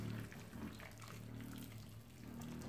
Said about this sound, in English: I'm going to pour some hot water on it